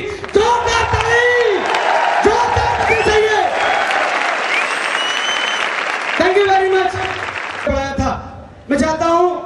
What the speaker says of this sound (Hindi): मैं चाहूंगा उनके लिए बहुत जोरदार ताली